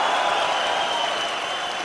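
A 10,000-strong crowd at a K-1 style kickboxing event roars and claps in a loud, continuous wash of cheering and applause, close and dense for just under two seconds.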